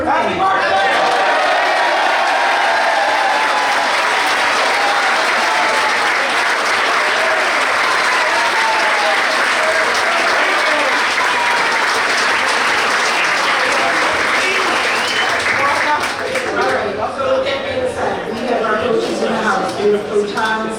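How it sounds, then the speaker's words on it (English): Applause fills a room at a boys varsity soccer banquet, a loud, dense crowd clapping that holds steady for most of the stretch before thinning into scattered claps near the end, with some voices mixed in. "give you a round of applause"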